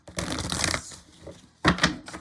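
Tarot cards are shuffled by hand in two quick bursts, a crisp riffling rustle followed by a short pause and then another brief shuffle.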